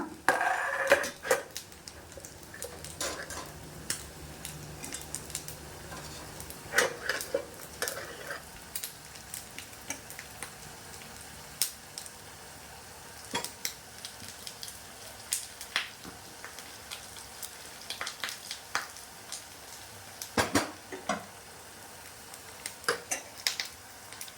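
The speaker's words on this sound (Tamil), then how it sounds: "நல்லா கலந்துக்கலாம்." A spoon stirs a cardamom and jaggery mixture in a pan, making soft scraping and faint sizzling sounds with scattered clinks over a steady low background, with no talking.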